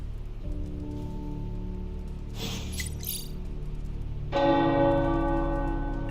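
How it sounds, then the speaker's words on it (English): Church bells ring in the video game Marvel's Midnight Suns, a resonant bell tone entering loudly partway through over a steady background of rain-like patter and low drones. "Bells are ringing."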